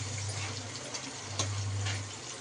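Water is poured into a pan of frying chicken gravy, giving a brief hissing gush over a steady low hum. The sound is moderately close and has no speech.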